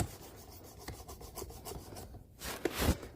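Knife blade honed on the ceramic rod of a Work Sharp Precision Adjust sharpener, giving soft, repeated scraping strokes in an uneven rhythm, close but quiet, with a couple of louder rasps near the end.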